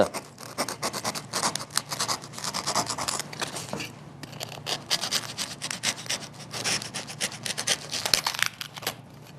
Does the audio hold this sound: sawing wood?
yes